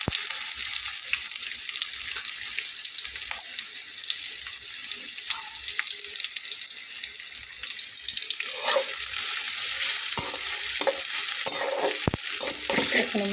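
Crushed garlic and onion fry in hot oil with a bright, steady hiss, broken later by a few sharp clinks and scrapes as the pan is stirred.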